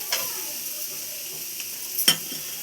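Capsicum, carrot and potato fry in a pan for a crispy Maggi snack. A faint, steady sizzle runs throughout, with a few light utensil scrapes and one sharper clink near the end.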